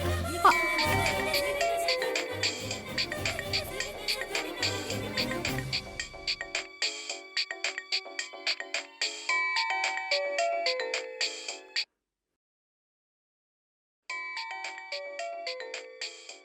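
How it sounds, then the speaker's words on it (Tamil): A phone rings with a repeating electronic melodic ringtone, loud and close, its tinkling tones pulsing steadily over a music bed at first, then continuing alone, pausing for a couple of seconds before ringing again. "பானுமதி நமக்கு ஏன் ஃபோன் பண்றா"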